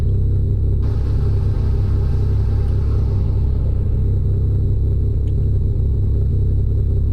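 A deep, loud car engine rumble in the video game Car Mechanic Simulator drones steadily and low throughout, with a faint hiss riding above it and no breaks.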